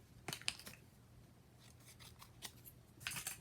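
Scissors snip around a cut vinyl scrapbooking piece, several short close crisp cuts in uneven bursts, quiet and without any talking.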